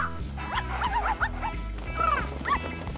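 A dog barks and yips repeatedly in short, loud, close bursts, with whimpering whines between them over a steady low background.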